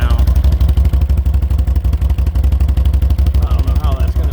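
A 2015 Can-Am Outlander 800R XMR ATV idles loud and close, its exhaust screen blown out, with a rapid, rough, popping pulse that holds steady throughout.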